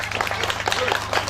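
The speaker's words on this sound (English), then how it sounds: "please give them a big applause." Audience at a children's programme applauding young performers, busy clapping close by over a low steady hum, with faint voices mixed in.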